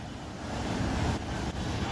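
Floodwater from a burst dam rushes down a river beneath an iron bridge in Nepal. It sounds like a broad, steady roar with wind buffeting the microphone.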